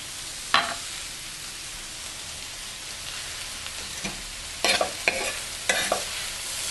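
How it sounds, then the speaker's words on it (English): Mushrooms cooking down in a pan give a constant soft sizzle, broken by a few clusters of spatula scrapes and stirring clatter toward the end. "these are going to take a few minutes to cook down"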